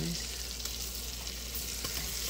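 Chopped onions fry in a pan for Korean sweet chili spaghetti, giving a steady, dense sizzle that holds evenly throughout with no talking.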